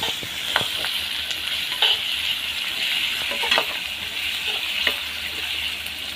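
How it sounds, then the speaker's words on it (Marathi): Onion and curry leaves sauté in hot oil with crushed garlic, giving a steady close sizzle broken by occasional sharper crackles and stirring scrapes. "छान कांदा हा गुलाबी रंग येईपर्यंत आपण परतून घेऊया."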